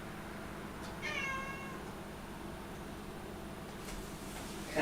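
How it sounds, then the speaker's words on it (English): A house cat meows once, a short rising cry over a steady low hum indoors during a tabletop card game session, followed by quieter moments with a brief rustle near the end. "My cat Apollo is here saying hi"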